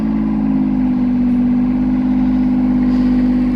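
Shindaiwa ECO 300 welder generator engine settling to a steady auto idle with the welding plant switched off, a loud, close, even drone with no talking.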